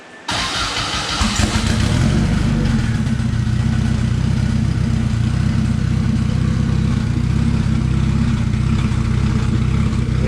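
A Volkswagen Beetle with a swapped Honda K20 engine cranks and catches, then settles into a loud, steady, rumbling idle recorded close up for the rest of the clip.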